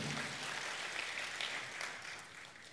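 A church congregation at an evening prayer service claps in a full, continuous burst of applause that fades slightly toward the end.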